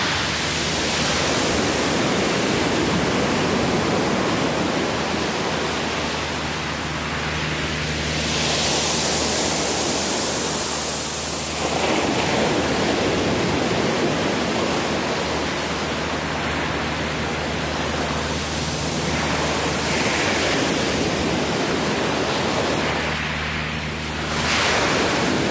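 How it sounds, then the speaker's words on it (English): Waves surging and retreating over shoreline rocks on the Kumano coast, loud rushing washes that swell and recede in slow cycles, with a low clattering undertone and wind noise, no speech. "that sound is made by the waves when they retreat."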